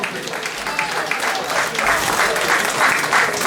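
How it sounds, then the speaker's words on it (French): Dense, steady applause fills the room at the Oscannes 2019 awards ceremony on Marie-Galante, growing slightly louder toward the end with a few voices mixed in. "Je m'en vais l'applaudir bien fort, s'il vous plaît."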